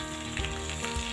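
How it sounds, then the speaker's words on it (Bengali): Potatoes and jackfruit fry in a pan with salt and turmeric, giving a steady close sizzle with a few louder bursts of crackle as the pieces are moved around. "নুন হলুদ দেওয়ার পর আরও কিছুক্ষণ আমি এটা ভালো করে ভাজবো"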